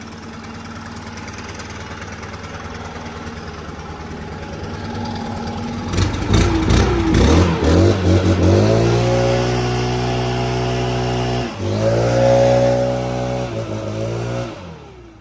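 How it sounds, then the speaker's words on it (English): A large gas backpack leaf blower, a monster compared with smaller models, starts from a quieter idle, then revs up into a loud, steady engine roar with a brief dip and surge before cutting off. "Alright, that's all of the backpack blowers."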